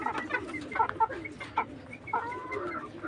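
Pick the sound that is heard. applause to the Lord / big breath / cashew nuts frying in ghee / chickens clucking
chickens clucking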